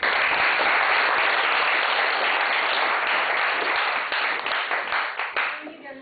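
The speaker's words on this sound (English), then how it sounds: "let's welcome Professor with a big round of applause" A lecture audience applauds to welcome a professor, dense sustained clapping filling the room before it thins into scattered claps and fades out at the end.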